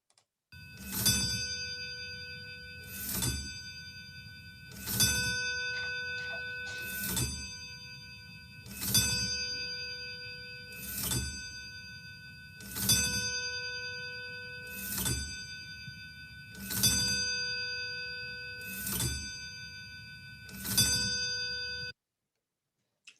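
Church bells are struck by motor-driven robot arms, two motors per bell working through threaded rod, ringing about ten evenly spaced strokes that each ring out and decay, with no talk.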